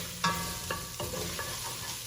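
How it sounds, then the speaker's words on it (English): Chopped onions hit a hot pan for lasagna and sizzle steadily. A few sharp stirring scrapes sound close at intervals over the continuous frying hiss. "And now we're gonna add our onions."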